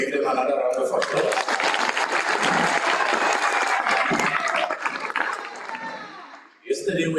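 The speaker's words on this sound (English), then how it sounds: "We can give them another round of applause." A graduation ceremony crowd gives a round of applause, dense clapping filling the hall for about five seconds before fading as a voice resumes.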